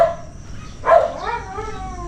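A dog at a home in Tarlac City, Philippines gives a single loud yelping bark partway through, standing out over a quiet, steady background.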